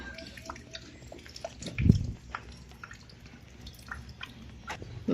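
Rainwater leaks from a barrel and drips into a basin, with a close, steady patter of small drips, one heavier splash, and a soft watery background.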